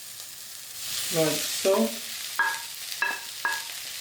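Chicken sizzling and frying in a pan with vegetables, onion and garlic, a steady hiss broken by scraping stirs and clattering utensil knocks, close up, with a brief spoken remark.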